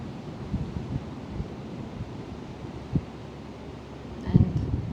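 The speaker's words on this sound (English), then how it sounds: "Just enjoy the breath, the sound of the waves." Ocean waves and wind make a steady wash of surf under gusty rumbling wind noise on the microphone, with a few louder swells and thumps rising near the end.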